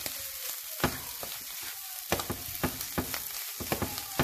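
Clam meat frying in a pan gives a steady, close sizzle with repeated sharp crackles and pops scattered throughout, alone with no talk.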